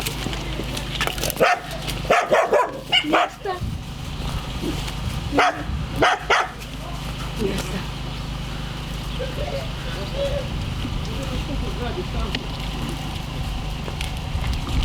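Dog barking in a few short bursts early on, mid-distance, against a constant low background rumble during an evacuation near Kurakhove, Ukraine; a person speaks briefly.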